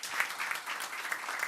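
Audience clapping steadily at a political talk, a dense, even patter of many hands at moderate distance with small swells and no voices over it.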